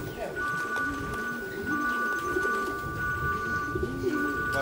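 Racing pigeons arriving at the loft at the end of a race flight and settling to land, with steady cooing and bird calls under people talking nearby and a faint constant tone in the background.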